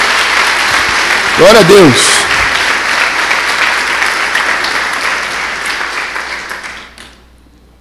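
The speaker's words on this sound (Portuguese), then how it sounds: "você pode aplaudir a Deus?" Church congregation bursts into loud, sustained applause mixed with cheering; a voice shouts briefly over the clapping midway, and the noise fades out near the end.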